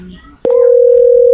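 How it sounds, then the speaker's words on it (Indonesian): Telephone line tone on picking up a handset: after a brief click, a steady, loud continuous dial tone sounds alone and holds unbroken to the end. "Kita akan angkat telepon ini."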